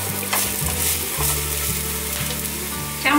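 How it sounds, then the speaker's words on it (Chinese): Minced ginger stir-fries in a little hot oil for a vegan winter melon and tofu dish, crackling and sizzling steadily up close as a spatula stirs it, with a louder burst at the end. "锅内放入少许油，油热了之后放入姜末，把姜末炒香"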